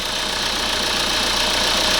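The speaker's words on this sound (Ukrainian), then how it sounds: "Як бачите, робота двигуна непогана" A Renault Kangoo 1.5 dCi diesel engine idles loudly and evenly with a steady, rough mechanical rumble and no voices.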